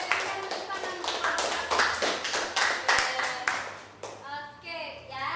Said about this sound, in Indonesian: berikan tepuk tangan semua